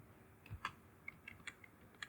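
Faint, sparse keystrokes tap on a computer keyboard while code is typed, a few soft irregular clicks in a quiet room.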